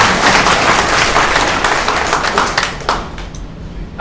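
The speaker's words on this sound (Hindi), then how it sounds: "उसको जगाने के लिए तालियां बजाइए।" A large audience at a public event bursts into loud, dense applause that stays steady for a few seconds, then thins and fades toward the end.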